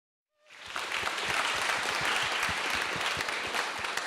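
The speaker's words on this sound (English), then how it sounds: "Big applause to the startup." Applause at an innovation opening ceremony, starting abruptly from silence and holding as a steady, moderately distant roar of many clapping hands.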